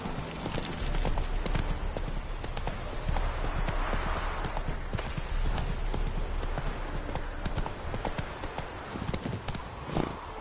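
Roach, a horse in a video game, gallops in a quick, steady run of hoofbeats that lasts throughout, loud and close over a busy game backdrop.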